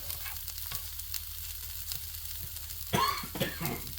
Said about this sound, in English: Let me get these sauteed up and I'll bring you right back.